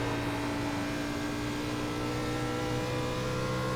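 A race car in a Nitro Xfinity racing game at Nashville Superspeedway holds a loud, steady engine drone at high revs. Strong harmonic hum runs unbroken, close and alone, with no talk.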